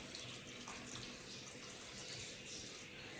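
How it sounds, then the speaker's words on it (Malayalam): Water poured into a pan of beans added to cubed elephant foot yam for a Kerala stir-fry, a steady, close rushing splash that runs unbroken for a few seconds with no talk. "ഈ പയർ വേവാനുള്ള വെള്ളം ഒഴിച്ചു കൊടുക്കുക."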